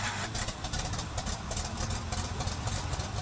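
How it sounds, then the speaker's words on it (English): A 1956 Oliver Super 77 tractor engine idles with a steady, even low rumble that holds at a constant level throughout, with no voices. "The tractor you're looking at is a 1956 Oliver Super 77."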